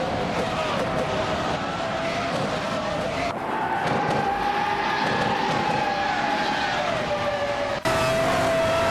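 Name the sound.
race cars racing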